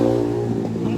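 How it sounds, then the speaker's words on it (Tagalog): Busy street traffic with many vehicles, a steady close engine drone with revving under it, loud and continuous throughout the brief moment. "Ang ingay. Daming sasakyan."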